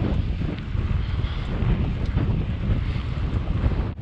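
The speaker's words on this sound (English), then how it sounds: "There's so much wind," Strong wind roars across the microphone during a bikepacking ride between Paro and Thimphu in Bhutan, a steady, heavy buffeting rumble that carries through the whole clip.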